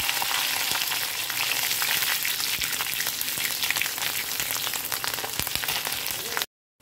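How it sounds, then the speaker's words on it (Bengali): Black cumin seeds and split green chillies hit hot oil left from frying brinjal, giving a loud, close, continuous sizzle with sharp popping crackles throughout, then a sudden cutoff. "এবার এই বেগুন ভাজা তেলের মধ্যেই দেখো ফোড়নে আমি দিয়ে দেবো কিছুটা পরিমাণ কালো জিরে"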